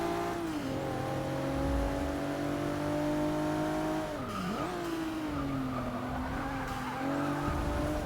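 Race car engine in Forza Motorsport 6 droning steadily, dropping sharply under super late braking with tire squeal and skidding, then rising again, loud and continuous with no talk.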